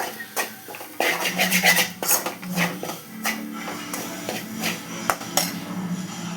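A metal spoon scrapes and clinks against a pan while onion and spices are stirred, with irregular knocks and scraping strokes over a faint sizzle, close up.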